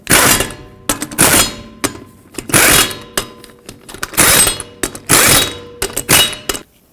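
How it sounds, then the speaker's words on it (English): Lug nuts on a 2006-2011 Chevrolet HHR wheel are run down with a wrench in a series of loud, close mechanical bursts separated by short gaps. "Start on all 5 of your lug nuts. We'll bottom them out and torque them to 100 foot-pounds."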